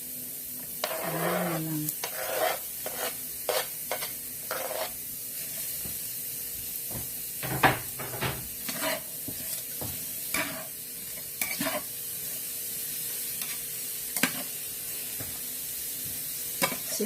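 Onions and chili frying in a pan for dinuguan, with a constant close sizzle and hiss under repeated stirring scrapes and clanks, and a brief spoken line near the start.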